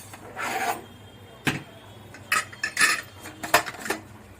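A cooled steel pressure cooker holding masala rice has its lid twisted open, giving metallic clinks, scrapes and rattles in short bursts, with a few sharp clacks near the end.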